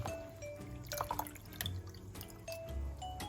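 Soaked poha is strained and water drips and trickles from it into a bowl or sink in a quiet kitchen, with several irregular splashy drops and short runs.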